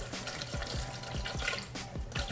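Water from a refrigerated bottle pours into a blender jar, a continuous splashing, gurgling stream with rhythmic glugs, close and fairly loud, with no talking.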